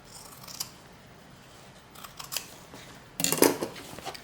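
Scissors trim material in a few close, crisp snips spaced apart, with the last cuts quicker and louder, in a quiet room with no talking.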